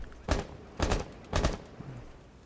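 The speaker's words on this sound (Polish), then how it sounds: "usłyszał te strzały dochodzące za, za w garażu" Three bursts of gunfire from Rainbow Six Siege, heard during a Go4R6 Europe Cup match between Fury and Kamikaze, crack out at an even pace from somewhere nearby inside a garage, with low background noise between them.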